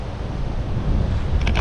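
Gusty wind blows outdoors, a short burst of low, rough buffeting rumble across the microphone.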